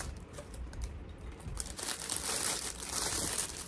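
A plastic-wrapped bow topper on a gift is carefully unwrapped, giving soft, close crinkling and rustling of thin plastic that grows busier and slightly louder toward the end, with no talking.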